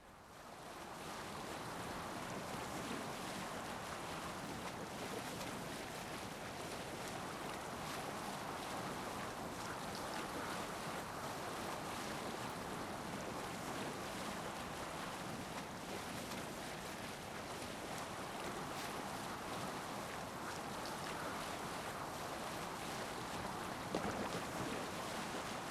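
A boat under sail in the video game Assassin's Creed Valhalla gives a constant roar of wind and waves, with steady broadband rushing that stays even for the whole stretch, without talk.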